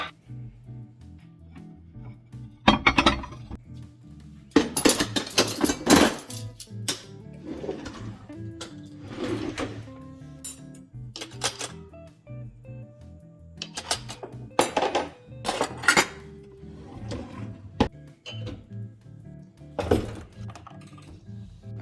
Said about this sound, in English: I'm gonna unload the dishwasher real quick, put the other dishes in the dishwasher